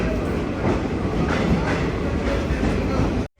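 A train on the Tinsukia to Ledo line rolling into Digboi station in Assam, a steady loud rumble with rhythmic clickety-clack of wheels over rail joints, heard close from inside the train, cutting off abruptly at the end.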